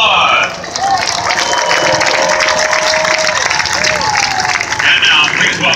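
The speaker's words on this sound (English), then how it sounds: "Give them a round of applause." Loud, sustained applause from a large crowd honoring Louisiana National Guard and U.S. Navy Reserve members at the Indianapolis 500, steady dense clapping with cheers and a voice over a public address.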